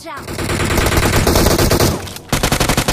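Rapid automatic gunfire in PUBG Mobile as a player leans out from cover, a loud sustained burst of closely spaced shots that breaks off briefly, then resumes in distinct punchy bursts.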